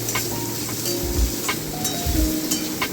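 Vegetables for chira pulao fry in a pan with a steady, moderate sizzle, broken by a couple of low thumps and light stirring scrapes, heard up close without speech.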